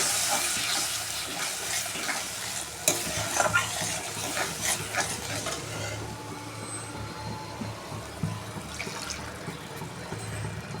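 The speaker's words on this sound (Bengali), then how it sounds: "বাটি দেওয়া জলটা আমি দিয়ে দিচ্ছি, আর একটু জল অ্যাড করবো" Water is poured into spice masala frying in oil for a vegetarian banana-flower kofta curry, a close loud sizzle that bursts, then settles into steady bubbling with stirring and scraping.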